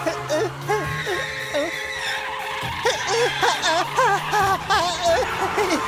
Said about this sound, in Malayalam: ഏതോ പടക്കത്തിന്റെ അല്ല, കാറ് പഞ്ചറായതിന്റെ ശബ്ദമാണ് ഹണി